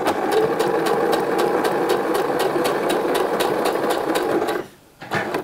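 Domestic sewing machine running steadily in straight stitch along a trouser hem on stretch fabric with a jersey needle, a fast even mechanical whir with rapid stitch ticks for about four and a half seconds, then stopping, with a few brief clicks after.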